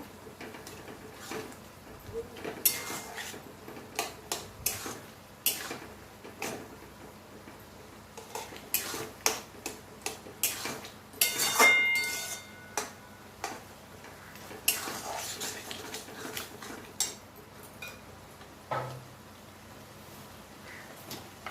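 Mango leather soaked in water is stirred with a little turmeric in a pan, a spoon ticking and scraping against the metal in uneven light clicks, close and fairly quiet, with no talking.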